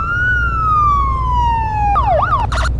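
An unmarked FBI police car in Garry's Mod blares its siren loud and close, a long falling wail that switches abruptly into a rapid yelp and then a short burst of harsher tones, over a low engine rumble.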